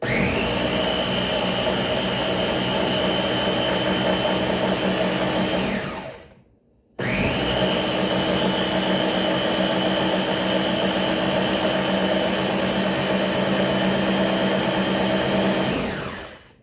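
A kitchen blender motor whirring through fresh garden gazpacho, a loud steady high-pitched run that winds down, pauses briefly, then starts again for a second long burst before stopping, with no talk.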